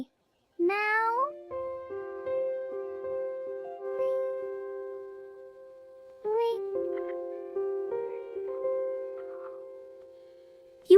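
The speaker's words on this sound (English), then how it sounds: "Oliver, a white cat." A white kitten meows in two long, drawn-out, wavering cries with a short gap between them, close and fairly soft, with a faint voice now and then underneath.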